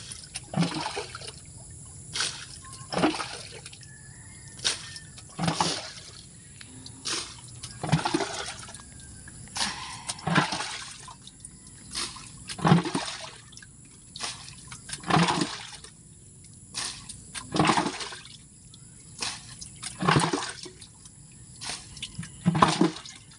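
Water running and splashing indoors in a house, with irregular gushing pulses and trickles repeating over a steady background hiss, fairly faint and without talk.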